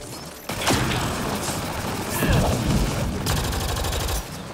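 Gunfire from Mass Effect: Andromeda rings out in several loud bursts with metallic mechanical clatter between them, over steady game noise.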